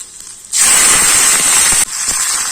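Wet drumstick leaves (moringa) dropped into hot oil with fenugreek and shallots for a buttermilk curry burst into loud, sustained spluttering and hissing, broken by a brief dip before the crackle resumes close up.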